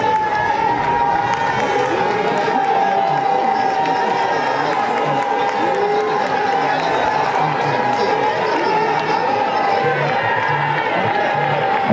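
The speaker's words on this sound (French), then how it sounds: "On applaudit très très fort." A loud crowd at a Congolese mourning gathering claps and cheers in a dense, steady roar, with voices and ululating calls mixed through the applause for the whole stretch.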